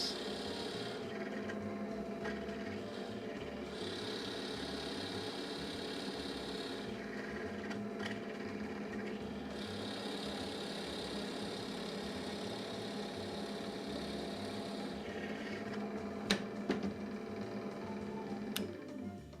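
Drill boring holes into wood for a board game shelf, a continuous whirring, rasping drone at low level, with a few clicks and knocks toward the end.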